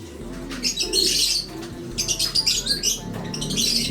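Racing pigeons in a loft coo and chirp in close, overlapping bursts, with soft wing flutters among them and no speech.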